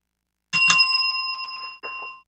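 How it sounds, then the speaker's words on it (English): A double bell rings twice in quick succession to mark the end of a shift, bright and close, the second strike ringing on before a brief lighter strike near the end. "That was the double bell."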